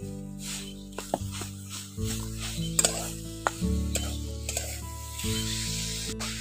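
Coconut filling with jaggery is stirred and fried in a pan, with soft sizzling and intermittent spoon clicks and scrapes under steady background music.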